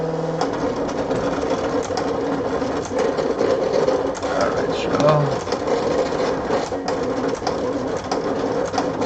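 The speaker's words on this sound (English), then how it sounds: "you guys are going to hear the silhouette start cutting my two spikes here" A Silhouette cutting machine cutting stencil spikes whirs steadily and loudly throughout with small mechanical stutters, while a voice briefly speaks over it.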